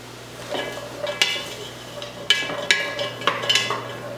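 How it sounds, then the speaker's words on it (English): Chopped carrot, celery and kosher salt going into a soup pot, with a handful of clinks and scrapes of utensil against the pot and light stirring, spaced irregularly over a quiet low hum. "this is our chopped up carrot and celery. So we can add that into the pot, along with some of our kosher salt"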